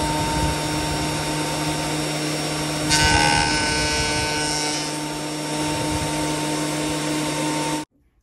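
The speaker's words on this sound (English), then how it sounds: "He's getting the planer." A power planer runs steadily on a wooden cabinet being given a worn, aged look, a continuous loud motor whine with a brief harsher cutting burst partway through, then stopping abruptly near the end.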